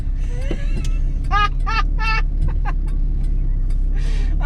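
An Austin Allegro's engine drones steadily and loudly from inside the cabin as it drives, with a few chirping squeaks breaking through and someone speaking over the noise.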